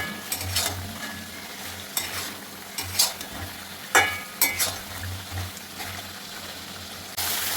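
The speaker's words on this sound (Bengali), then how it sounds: "দেখুন নিচে থেকে কিন্তু এই তেলটা দিয়ে কিন্তু একদম ভাজা ভাজা করে ফেলতে হবে" Chicken pieces frying in hot oil in a pan, sizzling under repeated scraping stirs that come in bursts, close and fairly soft, with a louder sizzle swelling at the end.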